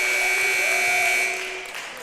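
A basketball game clock buzzer sounds at a college men's game between Southwestern Michigan College and Ancilla College, a loud, steady electronic tone holding for over a second before fading under arena noise.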